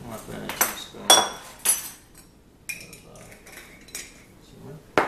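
Saigon cinnamon is measured with a metal teaspoon and added to a bowl for eggnog, giving a handful of sharp clinks and taps spaced across a few seconds, fairly close, with light speech between them.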